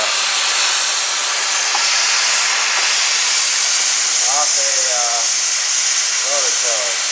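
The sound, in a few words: cutting a bracket out of an old rototiller knife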